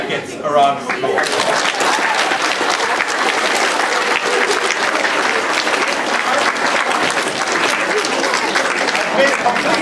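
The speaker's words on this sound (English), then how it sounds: "I think that gets a round of applause" Science museum audience bursts into applause after a countdown demonstration, a brief voice at the start giving way to nearly ten seconds of loud, continuous clapping.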